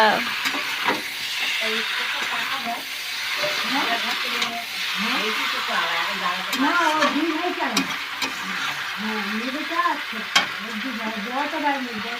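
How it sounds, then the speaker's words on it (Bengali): Red chicken kosha being stirred and fried in a pan, a steady sizzle with repeated scraping stirs and occasional spoon clinks, with a voice talking over it. "বন্ধুরা দেখো পুরো লাল লাল চিকেন কষা"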